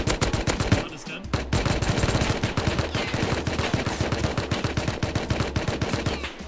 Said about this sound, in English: There's another guy shooting from somewhere.